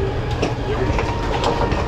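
Steady low rumble and rhythmic rattling of a train rolling along the tracks through rural Russia, heard from inside a carriage.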